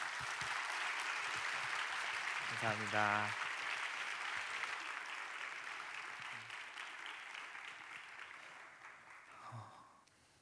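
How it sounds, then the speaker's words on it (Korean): A church college-group audience claps for a young woman who has just shared her testimony, the applause moderate and fading gradually, with a brief spoken word of thanks over it partway through. "우리 귀한 나눔해 준 우리 예린 양에게 뜨겁게 박수하겠습니다"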